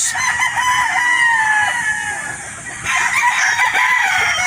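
A pure Boston Roundhead gamefowl rooster crowing loudly and close, one long drawn-out crow followed by another, with faint clucking beneath.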